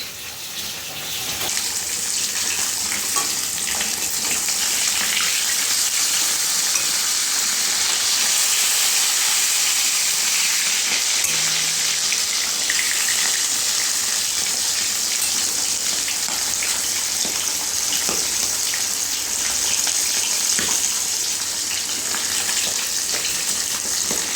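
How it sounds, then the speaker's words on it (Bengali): Tilapia fish frying in a pan of hot oil give a steady, loud, hissing sizzle that holds unbroken from start to finish, with no voices over it. "মাছগুলো সব ভেজে নেব।"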